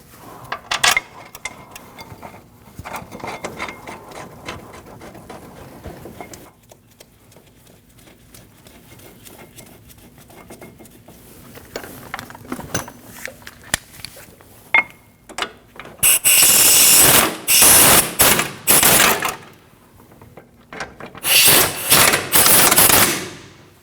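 Caliper bracket bolts going in on the front brakes of a 2003-2008 Subaru Forester: scattered metallic clicks and hand-tool ratcheting, then loud bursts of a power impact tool whirring in and out near the end.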